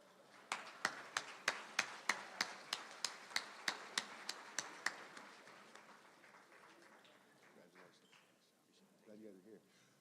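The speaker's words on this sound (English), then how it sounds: "Whoever kept that clap going, go and keep that thing going the rest of the night" Audience clapping in a slow, even unison beat about fifteen times at a business luncheon, then breaking into scattered applause that fades as a voice begins speaking over it.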